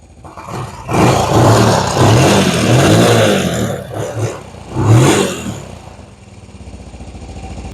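A Honda TRX 90 ATV engine runs close by, revving in loud surges that rise and fall before settling to a steadier idle.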